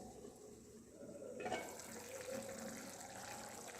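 Local chicken curry simmers in a pot and is stirred now and then, giving a faint, steady bubbling sizzle with soft watery scraping close by, and no voices.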